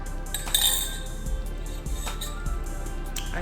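Small coffee spoon stirrer clinking against a glass cup meant for iced coffee, several bright, close, light taps in a quiet room.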